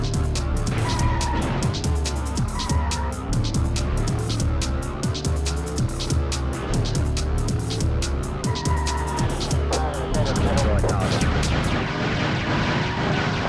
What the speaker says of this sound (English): The car just feels the best to drive.